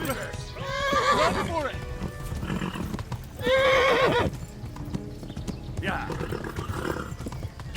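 In Kingdom Come: Deliverance 2, a horse's hooves clip-clop in a steady gallop while it lets out loud, drawn-out neighs, with a voice calling out over the hoofbeats.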